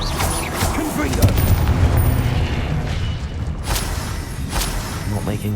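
Confringo spell blasts in Hogwarts Legacy combat, a run of loud booming, whooshing impacts rolling one into another amid other spell effects, with a voice talking over them.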